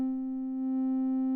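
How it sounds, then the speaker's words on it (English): Single sustained synthesizer tone held steadily with a low-pass filter cutoff lowered, sounding dull and rounded with a strong fundamental and faint upper harmonics, alone and even in loudness. "this is what happens when we bring down the cutoff frequency"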